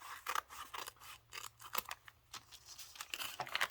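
Scissors snipping paper while trimming the end of a junk journal page: a steady run of crisp cuts close up, mixed with light crinkling and paper rustle.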